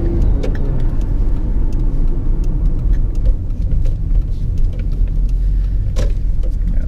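A 1992 Toyota Soarer accelerating, heard as a continuous close engine rumble with scattered light clicks and rattles and no talking.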